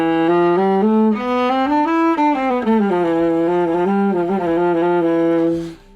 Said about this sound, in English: Phrygian is when we start on the 3rd note of the scale,